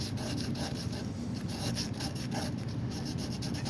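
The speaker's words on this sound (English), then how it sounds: "just run a scrap of sandpaper just to take the rough edge off." Scrap of sandpaper rubbing the rough edge of an oak inlay, a steady close rasping scrub in quick repeated strokes, with no voices.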